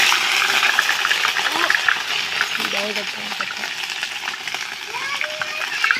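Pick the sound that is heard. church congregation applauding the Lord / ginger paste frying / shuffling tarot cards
ginger paste frying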